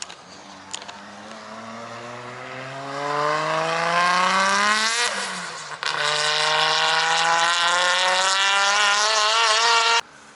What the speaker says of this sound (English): So I've made it out to South Circuit to have a go here for a Friday night drift.